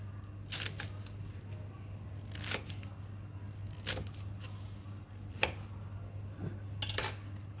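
Knife chopping banana blossom against a board in a handful of irregular sharp cuts, close up, with a steady low hum underneath and no talking.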